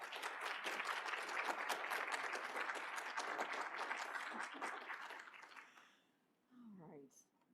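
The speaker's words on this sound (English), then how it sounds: "Please give a big round of applause for Rosemary Hathaway" An audience at a West Virginia heritage panel applauds steadily for about six seconds, the clapping fading out before a brief voice is heard.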